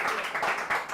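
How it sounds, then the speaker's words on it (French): A short burst of audience applause, steady, fairly faint and slightly distant, carried on for about a second. "Et les applaudissements nourris"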